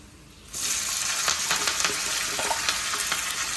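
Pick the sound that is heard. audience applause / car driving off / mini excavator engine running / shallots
shallots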